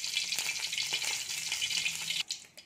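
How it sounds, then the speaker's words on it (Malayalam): About a tablespoon of coconut oil heats in a pan and sizzles with a steady, close crackle and spit that runs continuously, then thins into a few separate pops at the end. "വെളിച്ചെണ്ണ നല്ലോണം തിളച്ച് വരണം"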